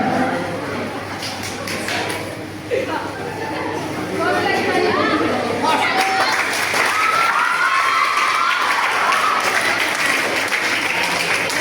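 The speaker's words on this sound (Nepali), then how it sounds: "साथीहरूले यसरी अगाडि ताली बजाएर यस्तो बिल्ला लाग्छ क्या फेरि।" An audience at a film promotion event claps and cheers continuously, a dense crowd of applause with shouts and voices mixed in.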